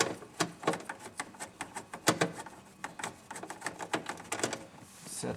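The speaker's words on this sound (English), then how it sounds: "you can use a nut driver like I'm using here" A nut driver works screws out of a Chevrolet Trailblazer instrument cluster assembly, producing a quiet series of irregular close-up clicks and ratcheting taps with short pauses between them.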